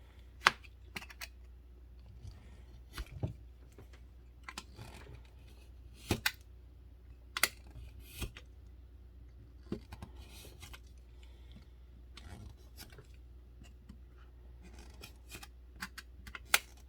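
Scissors snip through cardstock while cutting DIY Magic the Gathering card dividers, giving quiet, sharp, irregular clicks up close in an otherwise calm room.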